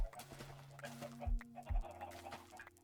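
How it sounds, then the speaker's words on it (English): Chickens in Minecraft give short, repeated clucks over light game background sounds, with a few low thumps. The clucks are moderately close and there is no talking. "Oh, 2 chickens in a boat."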